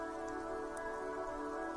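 Steady rain falls in the game Disco Elysium over a city precinct, a soft, even hiss that runs throughout without any speech.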